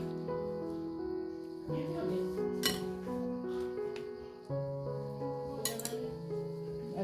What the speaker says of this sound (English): So mix them well, and then you'll have a very nice and tasty kachumbari.